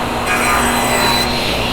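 A saw cutting through wood for an end table, one steady rasping stroke that swells and fades, close and loud with no talking.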